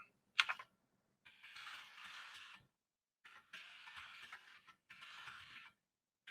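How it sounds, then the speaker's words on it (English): Bursts of rapid clacking from a loud computer keyboard, typed in three or four separate runs with short silent gaps between them and a sharp click near the start, close and clear with no talking. "keyboard's loud"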